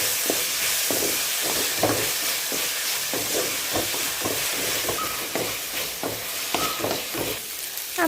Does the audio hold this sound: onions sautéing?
yes